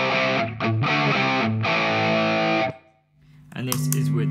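Electric guitar played through a Mosky Black Rat distortion pedal, a cheap RAT clone, set to vintage mode with medium distortion, tone up: loud, fuzzy sustained chords strummed in several hits, a brief drop to near silence, then another heavy chord.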